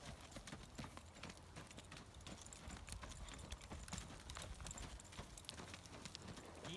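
Steady rhythmic clip-clop of horse hooves trotting under a rider, fairly quiet and even, with no talking.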